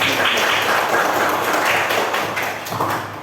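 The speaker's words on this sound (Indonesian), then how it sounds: "Tepuk tangan dulu Mbak Selly" A class of schoolchildren claps for a student in an Islamic religious education lesson, a steady, dense patter of many hands sustained throughout at close range, easing slightly near the end.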